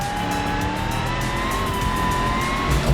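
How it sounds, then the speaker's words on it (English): A steady high-pitched supercharger whine from a Bruckell Bastion in the driving game BeamNG Drive, rising slightly over a loud engine and road roar on a race track, with no talking. "That supercharger whine."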